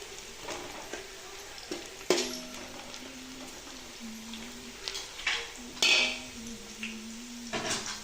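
Green chillies sautéing in hot oil in a home kitchen while chicken biryani is cooked, with soft frying sizzle under repeated clinks and scrapes of a utensil against the pan, a few sharper metallic knocks standing out.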